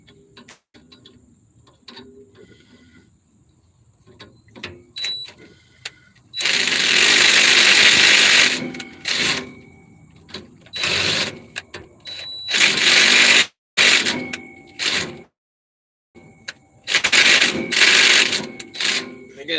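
An impact driver drills out a leaf spring clamp, firing in loud, harsh bursts of a few seconds each, separated by short pauses and quieter stretches.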